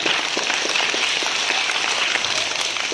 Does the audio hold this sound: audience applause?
yes